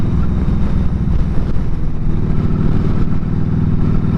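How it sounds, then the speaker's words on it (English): Heavy wind buffeting roars over a low, steady engine rumble from a 2007 Yamaha V-Star 1300 motorcycle on a cold April ride, loud and continuous without speech. "This wind, it's not a very strong wind, but it's cold."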